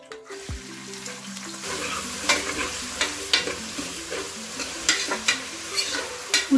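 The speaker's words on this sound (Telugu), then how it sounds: "ఉల్లిపాయలు వేసుకుందాం ఫ్రెండ్స్." Onions frying in plenty of oil for a country chicken curry, a steady sizzle broken by repeated scraping stirs of a spoon against the pan, close and fairly loud.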